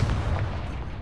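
A Confringo fire spell bursts in Hogwarts Legacy, a single short, loud boom with a rough, rumbling body that fades quickly.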